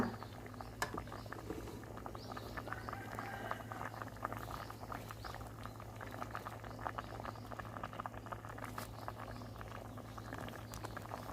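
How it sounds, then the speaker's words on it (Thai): Thai bamboo shoot curry bubbling steadily in a pot at a full boil, a continuous close patter of popping bubbles with a low steady hum underneath, lasting throughout without talk. "ตอนนี้ก็เดือดมาสักพักใหญ่นะคะ"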